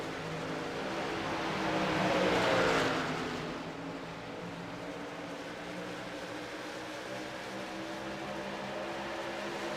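Racing trucks in a video game sweep past in a rising and falling roar that peaks early, then settle into a steady distant engine drone.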